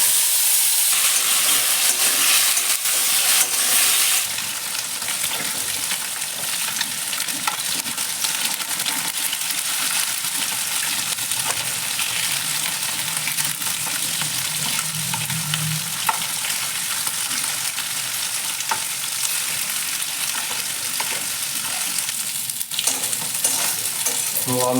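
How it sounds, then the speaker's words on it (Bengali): Potato pieces coated with salt and turmeric frying in oil in a wok, a dense continuous sizzle with stirring and scattered metallic clinks, louder at the start. "তো আলু ভাজা হয়ে গেছে"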